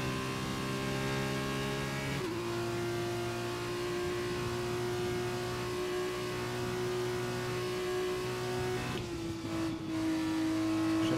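A racing car engine in F1 2021 holds a high, steady whine that shifts pitch with a few gear changes, continuous and fairly loud, with no speech.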